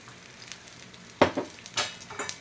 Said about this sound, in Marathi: त्याच्यानंतर हे तवा घेतला आहे त्याच्यामध्ये मी तर हे थालीपीठ सोडणार आहे